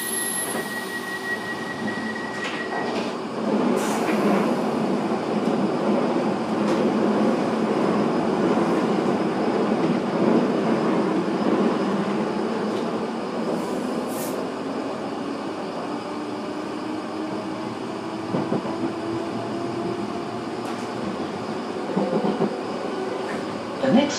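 A London Underground Piccadilly line train rumbling steadily along the track between Ravenscourt Park and Acton Town, a loud continuous roar with rising and falling tones, brief clanks, and a faint electronic hum near the start.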